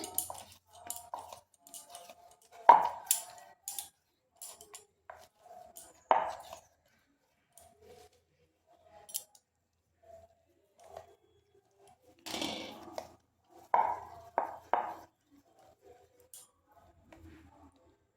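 A snack mixture mashed and pressed by hand in a bowl, giving soft scattered squishes and light knocks in bursts with quiet gaps, close by and with no talking.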